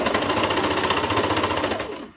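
Serger sewing machine stitching leotard fabric with a rapid, loud mechanical chatter that runs steadily and then winds down and stops, no talk.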